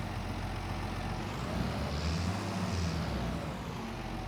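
A tractor engine in a farming video game drones steadily at close range, a low, continuous rumble that swells slightly partway through and then settles.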